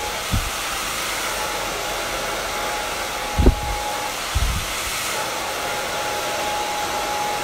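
A hair dryer roars steadily and close by while hair is blow-dried with a bristle brush during a short women's haircut. The drone is broken by a few brief low bumps of handling.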